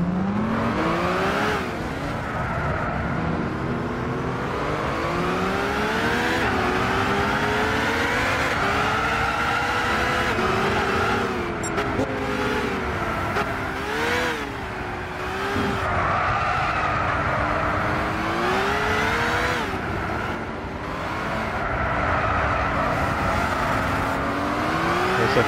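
Race cars in Gran Turismo 6 drift around a wet, rain-soaked track, engines whining and wavering in pitch as they rev and slide, with a continuous loud roar and occasional tire skids over about 25 seconds.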